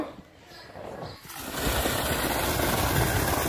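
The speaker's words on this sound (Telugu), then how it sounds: "ఇప్పుడు మోటార్ ఆన్ చేసి చూద్దాం నీళ్ళు ఎంత మటుకు వస్తాయో, ఎలా వస్తాయో" A 7.5 HP borewell submersible pump motor is switched on and water gushes out through a 3-inch pipe, turning a low background into a loud, steady rushing roar that continues to the end.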